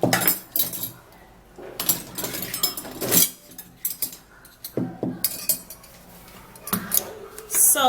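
Cup and dishes clinking and clattering as they are set down and moved on a hard surface, a run of sharp close knocks and chinks in uneven bursts, with a voice faintly in the background.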